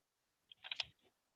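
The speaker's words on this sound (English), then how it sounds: "I can hear you typing." Computer keyboard typing coming through a poor call connection, a short faint burst of several quick clicks with no talking.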